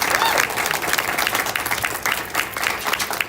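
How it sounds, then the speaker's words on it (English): Audience applause fills the room after an artist talk, a dense, steady patter of many hands clapping at close range with faint crowd murmur beneath, continuing throughout without letup. "Let's give it a round of applause"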